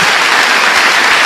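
A church congregation gives a round of applause during a Christian sermon, loud dense clapping throughout a short burst with no voices.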